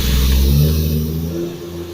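A 1963 classic car engine, started for the first time in a while, revs up loud and close, then settles back toward a steadier mid-pitched hum.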